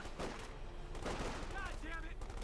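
Sustained machine gun fire and other battle noise from Company of Heroes 2 rattle steadily throughout, with a speaking voice over it.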